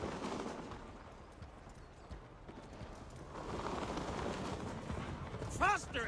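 Horse hooves clatter at a gallop in a steady rush in Assassin's Creed Valhalla, with a busy game soundscape and distant crackling bursts layered underneath.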